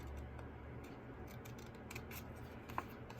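Scissors snip through paper to cut a flat paper bag on a die-cutting project, giving faint, close, small crisp cuts over a quiet background with no talking.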